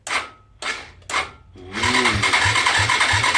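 Suzuki DR200S motorcycle engine cranking over on the starter, preceded by three short whirring attempts, then a steady mechanical churn with regular rhythmic pulses, close by.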